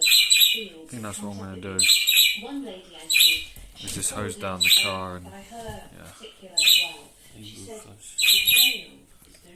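Someone talks while a bird chirps in short, bright bursts several times, loud and close, overlapping his speech.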